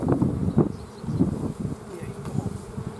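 Honeybees buzz around an open hive close to the microphone, a steady droning hum that swells in a few louder pulses as insects pass near, with light wind in the background.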